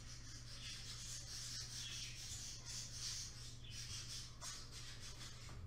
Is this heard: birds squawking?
yes